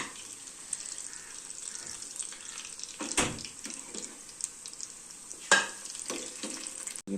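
Vegetable pakoras in gram-flour batter deep-frying in oil, a soft continuous bubbling sizzle with occasional scraping and clinks of a utensil, fairly quiet and without talk.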